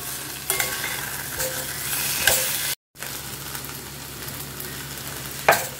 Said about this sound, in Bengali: এটাকে মিক্স করব যাতে আলুর গায়ে সব মশলাটা লেগে যায়, মানে এই পেস্টটা আর কি, পেঁয়াজ রসুন আদা টমেটো